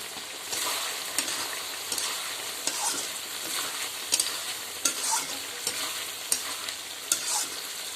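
Pork ears with meat masala sizzle in a hot pan while being stirred, a bright, constant frying hiss broken by regular scraping clicks of the spoon against the pan, close up and without speech.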